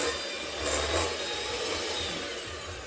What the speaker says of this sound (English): once it starts getting harder to whisk on a low speed, you will have to turn it up